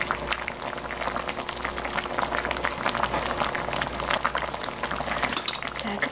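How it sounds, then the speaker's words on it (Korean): Spicy red broth with bone-in chicken feet simmering steadily in a pot, a continuous close bubbling and popping that runs the whole time without a break, heard alone. "자, 이렇게 해서 푹 끓일게요."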